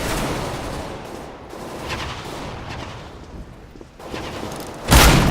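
Gunfire in the video game Counter-Strike: Global Offensive crackles as a dense, continuous barrage that ends in a sharper, louder blast at the close.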